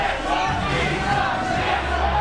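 A wrestling crowd chants loudly and continuously at the winner, a dense roar of many voices with no pauses.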